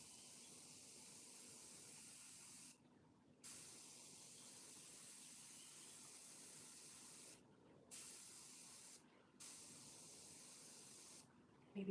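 Airbrush spraying paint in short hissing bursts to lay down overspray around the nose of an artwork, four separate sprays of about half a second to a second each, close and soft against a quiet room.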